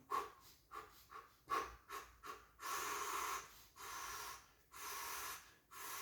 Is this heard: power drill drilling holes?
no